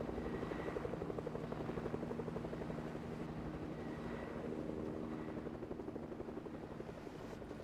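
A helicopter in the video game Fortnite gives a steady rhythmic rotor thump with an engine drone. It is moderately distant and fairly quiet, continuous for several seconds, and no one speaks.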